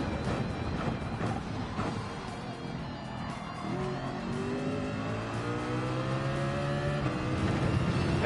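Race car engine in Gran Turismo 7 pulling out of a tire slide, rising in pitch as it accelerates hard, steady and up close with faint tire noise underneath.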